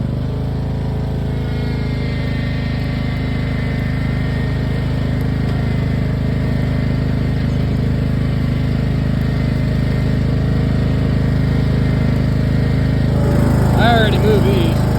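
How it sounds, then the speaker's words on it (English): A John Deere tractor engine chugs steadily and loudly at close range for the whole stretch while skidding logs, with a voice briefly heard over it near the end. "we're gonna do a little log skid with the John Deere"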